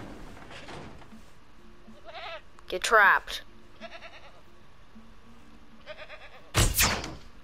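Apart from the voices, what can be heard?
goat bleating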